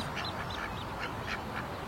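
Several ducks at Tirana's artificial lake quack in short, repeated calls from a moderate distance, heard against steady outdoor background noise with no talking.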